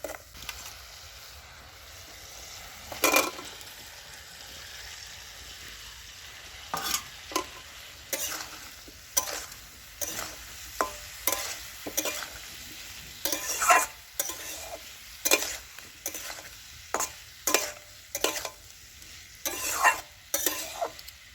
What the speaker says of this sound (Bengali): তেলে মশলা দিয়ে দিয়েছি, দিয়ে মশলাটা কষিয়ে নিয়ে আলু আর কপিটা দিয়ে দেবো।